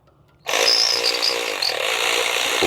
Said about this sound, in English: Let's take our trusty ratchet. Make sure it's in the takeoff position.